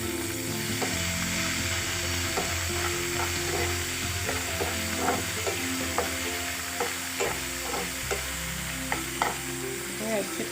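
Chopped onion, green chili and ginger frying in a pan for dill-leaf upma, a steady loud sizzle with repeated clicks and scrapes of a spoon stirring against the metal.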